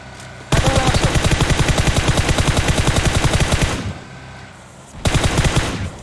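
Rapid automatic gunfire in the mobile battle royale game PUBG Mobile, a loud sustained burst of close shots lasting about three seconds, a short pause, then another burst starting up.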